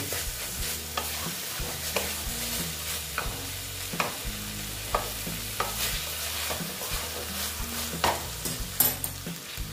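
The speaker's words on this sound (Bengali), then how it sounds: "যতক্ষণ পর্যন্ত তেলটা না বের হবে, না ছাড়বে তেলটা, ততক্ষণ পর্যন্ত আমি এটাকে আরো কষিয়ে নেব।" Chicken in a spicy masala stirred and fried in a pan, a steady close sizzle with regular scraping strokes of a spoon against the pan, moderately quiet and with no talking.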